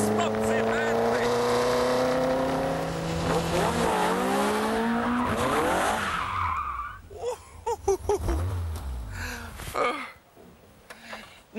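A Caterham R500 sports car roars under hard acceleration, its loud engine note climbing through the revs for several seconds before fading into scattered, quieter sounds.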